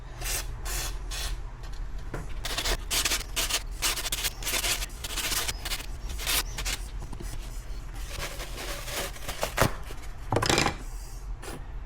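Repeated rubbing and scrubbing strokes of shop towels wiping a 2023 Honda Goldwing DCT motorcycle, brisk and uneven in rhythm, close up, with a few sharper scraping bursts.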